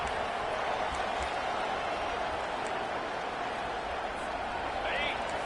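A college football stadium crowd roars in a dense, steady wash of noise, loud and continuous throughout with no lull.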